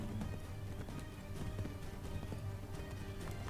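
Horse hooves clip-clop at a quick gallop in Assassin's Creed III, a brisk, steady run of hoofbeats over ambient game sound.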